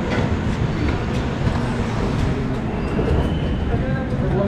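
A passenger train stands at Panvel station on the Konkan Railway, with a steady, busy platform rumble and hum, muffled clatter and crowd noise, and voices talking throughout.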